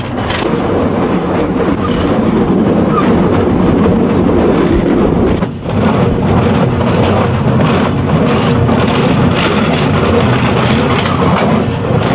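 A crowded passenger train rolls steadily along the rails, a loud continuous rumble with rattling and clacking wheels, heard up close from on board.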